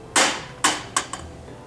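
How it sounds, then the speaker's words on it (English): A hammer dropped from a 45-degree angle onto a bicycle frame protector gives four sharp, close impacts, each bounce quicker and fainter than the last, with no talking. "Now, we're going to drop the hammer from 45 degrees."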